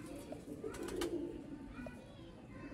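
Sialkoti pigeons coo softly, low and muffled, with a steady murmur of background noise and a faint hint of voices.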